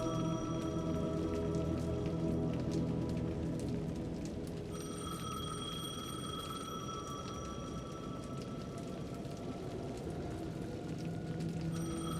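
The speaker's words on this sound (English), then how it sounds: "payphone was ringing" A payphone in Alan Wake 2 rings steadily over a dense, rainy ambient backdrop, its tones sitting as bright sustained lines through most of the stretch with no voices.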